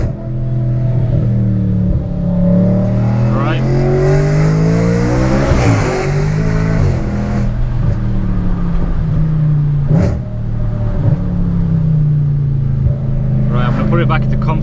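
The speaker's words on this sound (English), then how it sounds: "this car is one car that is so loud that I honestly have to quiet it down before I go past some houses" Loud Audi RS5 driving and accelerating, its engine note rising and falling through gear changes, steady and close throughout with a sharp burst around the middle.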